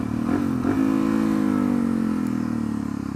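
Motorcycle engine heard alone and close during a downshift under engine braking, with two quick throttle blips that briefly raise the engine note before it settles into a steady, falling drone.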